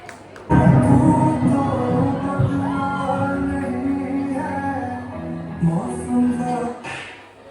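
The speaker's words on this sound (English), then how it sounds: "Let's give them a big round of applause" A school audience at a Teachers' Day programme shouts, whoops and cheers for a class's dance performance, a loud, dense crowd din sustained for about seven seconds with voices yelling throughout.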